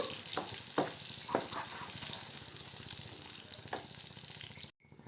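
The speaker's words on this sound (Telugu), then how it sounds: "నెయ్యి కరిగాక అందులో మనం మిక్సీ పెట్టుకున్న మిశ్రమాన్ని మొత్తం వేసుకుని స్టవ్ని సిమ్లో పెట్టి కలుపుతూ ఉండాలండి" A ground mixture sizzles in melted ghee in a pan on a low flame, a continuous close frying hiss broken by several scraping stirs, cut off abruptly near the end.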